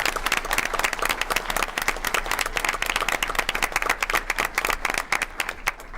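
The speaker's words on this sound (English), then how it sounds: "if I could have one more round of applause for both of these amazing teams" A school board meeting room fills with steady, dense applause for two presenting student teams, many hands clapping continuously at close range for the full stretch with no talking over it.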